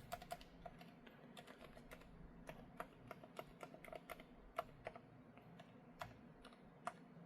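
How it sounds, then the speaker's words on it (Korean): Typing on a Dareu A104 PRO keyboard at close range: irregular, fairly quick key clicks with sharper accented strokes, over a low steady background hum and no voices. "키보드 테스트하는 온라인 사이트 들어가서 한번 확인을 해볼게요."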